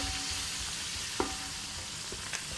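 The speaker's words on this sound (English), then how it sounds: "just actually gonna just dump them in and give it a nice stir" Chicken biryani ingredients sizzling in a hot pot while a spoon stirs them, steady frying hiss with a few soft scrape-and-clack knocks.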